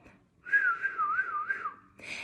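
A person whistles a single wavering tone for about a second and a half, close and clear, rising and dipping in pitch before a brief breathy sound at the end.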